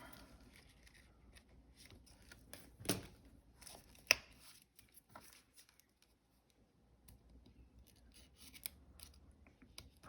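Quiet snipping of scissors, a few distinct cuts with small taps and rustles between them, close up and alone.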